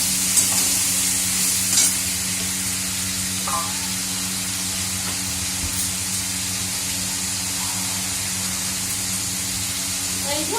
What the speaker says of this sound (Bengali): অল্প জল দিয়ে দেবো।